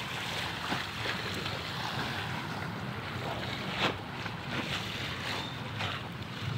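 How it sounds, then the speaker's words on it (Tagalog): Waves wash against the shore at Mabini, Batangas, with a steady rushing surf, with wind buffeting the microphone and no voices. "Yun, nasa tabing dagat."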